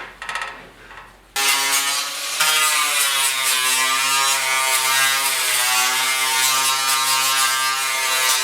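A grinder bites into the bodywork of a 1969 Ford Bronco bed, a loud, steady, high-pitched whine that starts abruptly after a quiet moment and holds with slight wavering.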